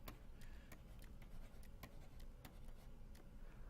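A pen scratching on paper or a board while parse trees are sketched by hand: faint, irregular taps and strokes over a steady background hiss.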